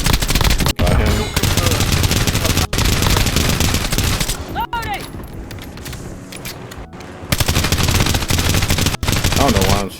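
Rapid automatic gunfire from a Warzone match, loud bursts in quick volleys with brief gaps, a quieter stretch in the middle, then heavy shooting again.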